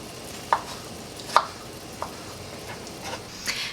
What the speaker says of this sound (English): you can cut it in half and then just dig out the seeds with your finger